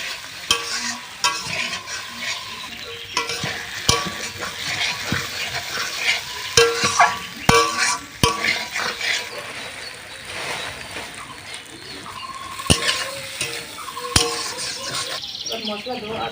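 Potatoes and eggs frying in hot oil in a home kitchen, a close sizzle broken by irregular clinks and scrapes of stirring.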